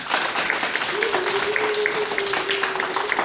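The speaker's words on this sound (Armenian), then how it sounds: "Եկեք մի հատ բարձր ծափահարենք։" Group clapping for a five-year-old child, a dense burst of applause throughout, with a voice rising over it partway.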